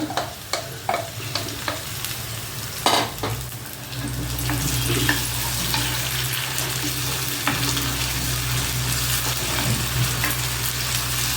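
Boiled spiced meat drops into a hot pan with a few clattering stirs, then settles into a loud, steady frying sizzle that continues to the end.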